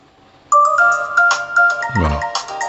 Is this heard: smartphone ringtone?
yes